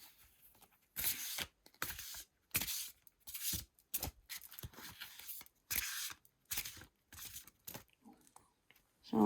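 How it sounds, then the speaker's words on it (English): A deck of tarot cards is shuffled by hand, bursts of crisp riffling and rustling in short, repeated strokes separated by brief pauses, close and quiet. "So I'm going to keep shuffling."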